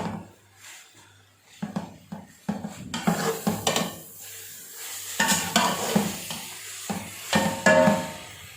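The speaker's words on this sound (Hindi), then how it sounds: "अच्छी तरह से हमने इसको मिक्स कर लेना है" Carrot halwa with khoya, cooked in desi ghee, being stirred in a pan: repeated scraping and clattering spoon strokes against the metal, with a gentle sizzle between them, close up and without speech.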